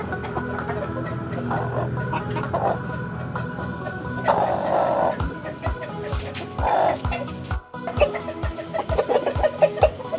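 Rhode Island Red and Black Australian chickens clucking in a yard, scattered clucks and calls under a person talking, with a dog's yip and a run of rhythmic thumps mixed in.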